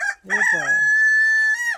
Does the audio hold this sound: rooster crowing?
yes